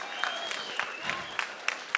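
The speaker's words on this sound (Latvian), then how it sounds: "Sājies, bļa, Džeki, uztaisam troksni, bļa." Sparse, faint clapping from a small crowd at a KSPROFL combat sports event in a hall, a few scattered claps with a thin tone ringing underneath.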